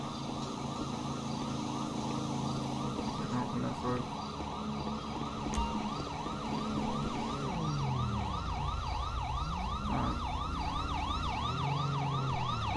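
An ambulance siren in the video game Grand Theft Auto V wails continuously in a fast, repeating rise and fall, loud and close, over a low engine rumble.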